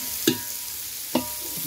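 Okra pieces frying in a pan over a flame and being stirred, with two distinct scraping stirs against a steady sizzle, close and fairly quiet, no talk.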